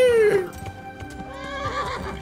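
Video game horse lets out a loud, descending whinny up close, followed by snorting and light hoof clops beneath a quiet musical background.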